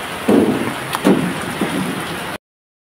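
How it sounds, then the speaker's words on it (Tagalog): A sudden heavy downpour pours in a loud, steady roar, broken by several deep thudding rumbles, before the sound cuts off abruptly. "bibiglang buhos na ulan"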